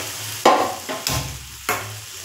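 Spice masala frying in a pan for a fish tawa kebab, a soft sizzle broken by three or four distinct spatula scrapes and knocks against the pan, close and fairly loud.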